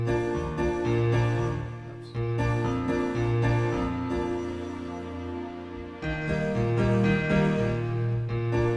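Keyboard playing a short song of sustained chords with a melody on top, changing chords every couple of seconds, played alone and close at a steady, moderate level.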